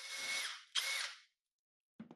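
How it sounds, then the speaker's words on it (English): A power drill fitted with a larger bit bores out the screw holes of a custom router baseplate, making two close, whining bursts of drilling back to back, then a pause and a short clatter. "I drilled the holes out with a larger bit that matches my router base's holes."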